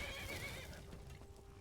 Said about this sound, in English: A nice little horsey is trying to help me.